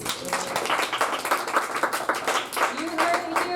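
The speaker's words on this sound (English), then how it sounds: "Another round of applause, please." Applause and clapping for a poet at a spring open mic night, a steady dense patter of many hands through the whole stretch, with some voices mixed in toward the end.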